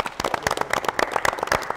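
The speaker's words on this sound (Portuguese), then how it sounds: "Só temos que terminar com palmas, gente, por favor." Live audience applause at a Brazilian university TV show honoring Anhembi Morumbi University, with many hands clapping in a dense, steady patter, close and loud.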